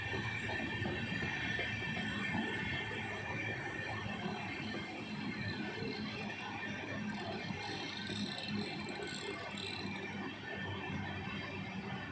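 A brand-new LHB-coach rake on train 07425, the Tirupati to Sainagar Shirdi inaugural special, stands at platform four of an Indian station, producing a continuous rumbling mechanical drone with faint squeals and metallic ticks. No one speaks.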